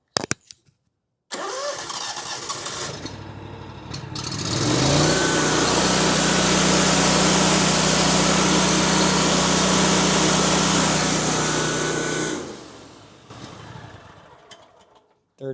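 A small engine idles, then climbs to a loud, sustained full-throttle roar for about eight seconds before dropping back to idle, close up with no talking.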